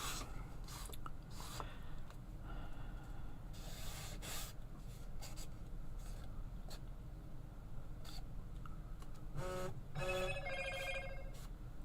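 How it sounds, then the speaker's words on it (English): A mobile phone gives a short buzz near the end, faint against quiet rustling and handling noises at a crafting table. "My phone buzzed."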